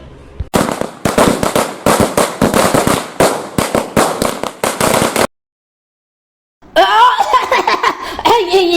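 A rapid string of loud, sharp firecracker bursts crackles close by for about five seconds, then stops; after a short silence, voices and laughter follow.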